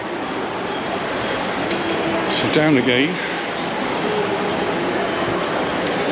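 A train runs through Mallorca with a steady broad rumble and hiss, a brief squeal rising midway, while someone talks over it.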